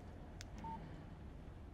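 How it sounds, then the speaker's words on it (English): A short electronic chirp sounds as a text message alert on a phone in the video game Alan Wake: a couple of brief faint beeps followed by a thin steady tone over a quiet game ambience. "Text message from Barry."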